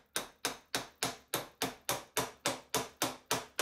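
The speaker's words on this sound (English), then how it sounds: "Lots of very small taps with a hammer against a piece of brass bar," A small hammer taps rapidly on a brass bar held against a stuck old steam locomotive piston, giving eleven or so sharp, evenly spaced metallic strikes, close and fairly loud, with no talk.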